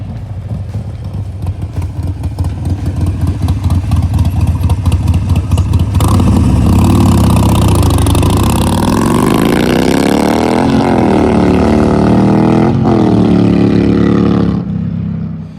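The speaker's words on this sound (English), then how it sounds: "I absolutely love the way this bike sounds. It is like the classic Harley sound." A Harley-Davidson Road Glide with Tab Performance Zombie exhaust rumbles loudly at close range, its lumpy idle rising into strong revs that build and fall before settling back, with no talk over it.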